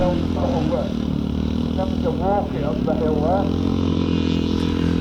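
Classic scramble motorcycles, including one with an Armstrong 500 engine, labour up a muddy hill with a continuous loud engine drone and rising revs, while someone talks over it.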